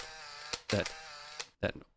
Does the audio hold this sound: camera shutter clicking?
yes